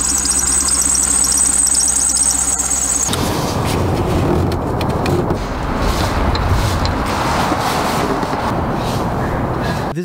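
A C5 Corvette's idler pulley squeals in a high, steady continuous tone that suddenly stops, leaving a rough, noisy engine rumble close by.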